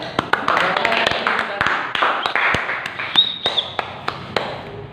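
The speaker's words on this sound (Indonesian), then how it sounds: "Kita berikan aplaus ya." A small group claps in sparse, uneven hand taps at a talk, loudest near the start and thinning to isolated claps, with speech carrying on underneath.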